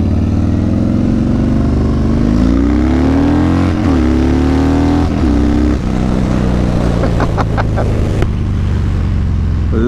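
Harley-Davidson Street Bob V-twin engine during a test ride, loud and close, holding high revs with rising and falling pitch as it accelerates and shifts, with steady wind rush throughout.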